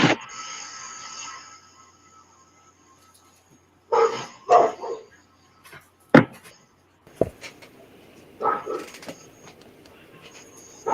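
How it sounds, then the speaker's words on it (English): A dog barks outdoors in several short bursts spaced a few seconds apart, moderately distant, with quiet stretches between and no talk. "That dog sounds like it don't like something."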